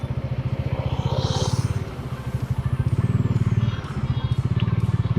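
A 2019 Bajaj Dominar 400 motorcycle idles with a deep, bassy exhaust note, a steady close-up thumping pulse with a brief swell in revs partway through.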